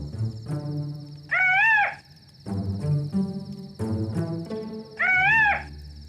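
A person whistles a warbling imitation of a bird call twice, each a short rising-and-falling trill, with other vocal sounds between the two calls.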